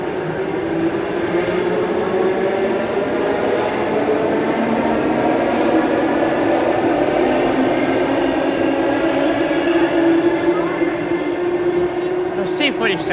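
A Sydney train riding from Sydenham to Chatswood, heard as a loud, steady interior rumble with a whining tone and rail noise throughout the ride.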